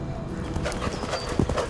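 Horse hooves clip-clop in a loose, uneven rhythm, moderately close, with a faint whinny-like tone in the background.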